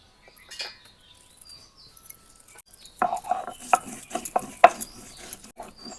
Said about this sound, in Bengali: জিরা আর আদাটাকে একসঙ্গে বাইটে নেব